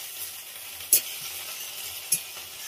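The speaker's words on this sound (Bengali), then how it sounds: "দিয়ে আমি এই শাকটা ভাজছি" Shushni greens fry in a pan with a soft, steady sizzle, broken by two short sharper clatters of stirring, fairly quiet and alone with no voices.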